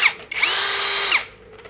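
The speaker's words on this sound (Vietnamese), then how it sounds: "anh em quan sát khoan gỗ thì có thể chỉnh nhanh chậm đây" A cordless battery drill bores into wood, its motor whining up to a steady high pitch for about a second before winding down, loud and close with no talking.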